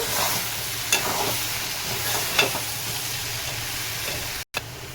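Potato curry frying in a pan is stirred, a steady close sizzle broken by a few scraping strokes of the spoon and a brief cut near the end.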